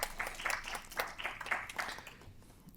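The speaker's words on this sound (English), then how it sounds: "So round of applause for them." Brief round of clapping from a small group at a state education assessment and accountability review subcommittee meeting, coming in uneven bursts that taper off toward the end.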